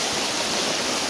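Strong current of waist-deep flood water rushing over a broken road, a steady, close, loud roar of churning water with no pauses and no voices.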